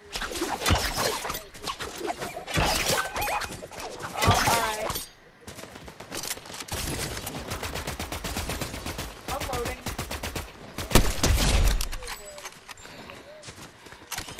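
Gunfire crackles during a Fortnite squad match, with bursts of rapid shots and sharp impacts scattered through the scene, mixed with other game effects and heard under people talking over it.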